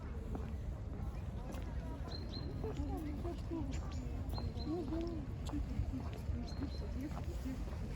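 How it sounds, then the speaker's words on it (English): Tomtits and sparrows chirp in repeated short calls throughout an autumn walk beside a medieval Kremlin wall in Nizhny Novgorod, the birdsong moderately near over steady outdoor background noise. "Do you hear the birds singing?"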